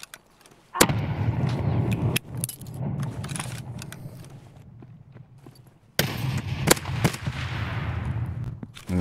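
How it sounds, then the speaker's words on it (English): Grenade blast and bursts of gunfire in the shooter game Escape from Tarkov, with loud sharp reports and a heavy broadband explosion near the start, a quieter rumbling stretch, then another loud burst of shots and impacts near the end. "Grenade!"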